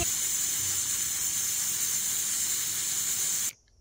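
A pot of Peshwari namkeen gosht hisses loudly with escaping steam at a rolling boil, a constant close spray-like hiss that cuts off abruptly near the end.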